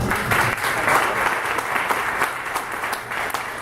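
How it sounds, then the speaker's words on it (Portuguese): A church congregation applauds together, a dense, steady wash of clapping that holds at the same loudness throughout with no voices above it. "Aplauda o Senhor"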